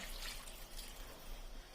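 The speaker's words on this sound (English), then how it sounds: "Add in more water." Water poured into a pot of cooking ogbono soup, a steady soft trickling and splashing, close and fairly quiet, with no talk.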